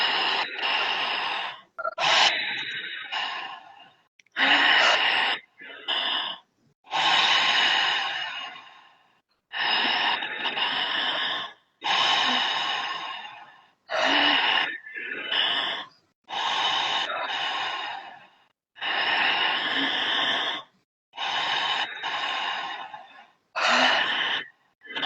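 A group doing a breathwork exercise breathes in and out together, with long rhythmic inhales and exhales repeating about a dozen times with short pauses between, close and clear.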